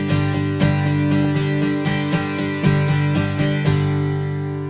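Acoustic guitar strummed steadily down and up, with an egg shaker held in the strumming hand adding a light percussive rattle to each stroke. The rhythm is even, close and fairly loud, and no one speaks.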